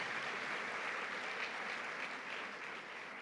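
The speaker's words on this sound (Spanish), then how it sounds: "Dale un fuerte aplauso a nuestro Señor y Salvador Jesucristo." Sustained applause from a church congregation honoring Jesus Christ at a Catholic gathering, a steady dense clapping wash with no voices over it.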